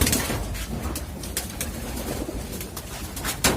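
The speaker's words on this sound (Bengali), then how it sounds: "এটা মাদি আর এটা নরকবুতর আর বাকিগুলাও এখনো পর্যন্ত ডিম ফুটে নাই ডিম নিয়ে বসে আছে সবগুলাই" Pigeons, a male and a female among nesting birds sitting on eggs in a loft, give soft low coos close by over steady rustling background noise, with no talking.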